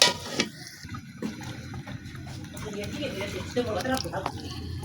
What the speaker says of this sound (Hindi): अब हम इसके अंदर पानी डाल देते हैं, चीनी वाला जो बनाया था वो पानी डाल के